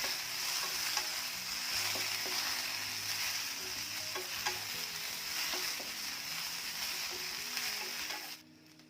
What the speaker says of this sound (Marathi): ते बघा भेंडी छान आधी भाजून घेऊया हळूहळू रंग बदलत आहे